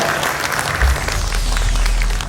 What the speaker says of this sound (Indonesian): Mari kita beri tepuk tangan yang meriah untuk Bapak Agus Wicaksono.